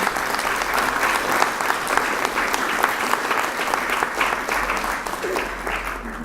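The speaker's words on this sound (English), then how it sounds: "let's give them a round of applause" An audience at a university debate event in Chico applauds the debaters. Steady, dense clapping from a sizeable crowd runs for about six seconds, with no voices over it.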